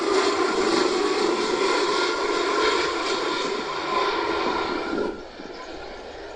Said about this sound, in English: This military Airbus A330 was forced to land after its left aerial refueling hose failed to retract.